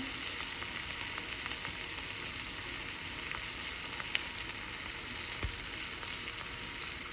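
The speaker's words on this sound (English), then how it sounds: "right now I'm just letting it cook to get my egg yolk a little bit more done" An egg-in-a-hole and homemade sausage fry in a pan, giving an even, unbroken sizzle at moderate level with a couple of faint clicks; nobody talks.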